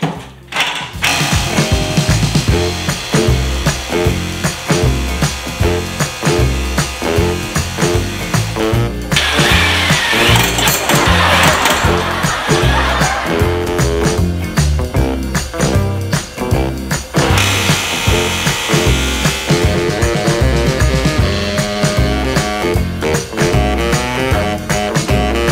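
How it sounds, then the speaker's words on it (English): A power drill grinds steadily on a seized spring perch bolt during front suspension work on a budget V8 hot rod, loud and close with a rattling mechanical texture, continuing without a break for the whole stretch. "I just left the torch just going, just blasting away at it while I got on the drill."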